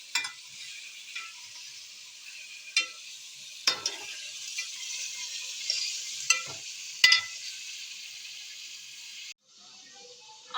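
Meat sizzles steadily while frying in oil for chana daal gosht, a continuous hiss with occasional sharp stirring scrapes and clicks, ending in a quieter sizzle.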